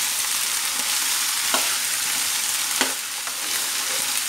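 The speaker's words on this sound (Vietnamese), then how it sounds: "một chảo bắp to luôn bạn ơi." Sweet corn stir-fried with scallions in a large pan gives a constant loud oil sizzle, with a few sharp scrapes and clinks as it is stirred, close and without any voices.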